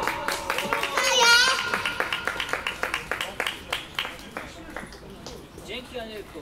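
Clapping at a birthday party: a run of rhythmic, fairly close hand claps in a steady beat, mixed with children's and adults' voices, fading out near the end.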